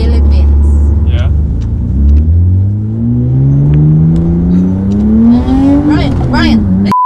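V6-swapped Toyota MR2 engine revving and accelerating from inside the car, a loud climbing growl rising steadily in pitch, with voices talking over it.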